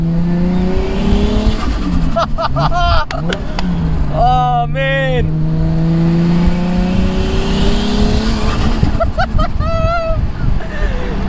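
A turbocharged 550 hp wide-body Toyota Supra with a TO4Z turbo revs loudly nearby, the engine rising and falling with sharp blow-off flutter and wastegate chatter between pulls, while someone speaks briefly over it.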